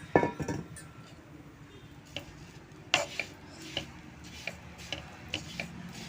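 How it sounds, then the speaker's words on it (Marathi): A spoon stirs dried coconut roasting in a little ghee in a pan, making sparse, quiet scrapes and clinks at irregular intervals with a faint low hum underneath. Nobody speaks. "हे थोडंसं तूप घालून हे सुकं खोबरं परतून घ्यायचं"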